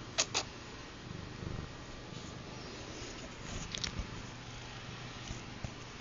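A house cat purrs softly and close, a low steady hum broken by a few brief clicks and rustles.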